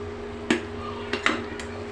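A spoon or spatula stirs a curry of bottle gourd, taro stolons and dried fish in a cooking pot, giving a few scattered clinks and scrapes against the metal over a low background hum.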